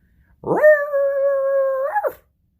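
A man imitates a Chihuahua with a single drawn-out, high, whiny yelping howl that rises, holds for over a second and then breaks off, loud and close.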